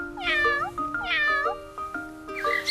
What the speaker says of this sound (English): Your cat meow.